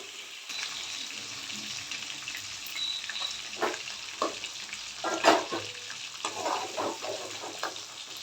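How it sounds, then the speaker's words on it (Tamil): Chicken legs fry in oil in a pan, with a steady sizzle broken by spatula scrapes and clanks, and one louder knock midway. "இந்த மாதிரி கொஞ்சம் நல்லா வதக்கிட்டு"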